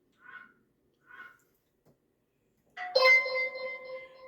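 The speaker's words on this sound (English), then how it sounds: "Let me reach out here and ring the doorbell too." A Wyze video doorbell chime rings loudly with a bright, resonant bell tone that sustains and slowly fades, preceded by a couple of faint short chirps in a quiet indoor space.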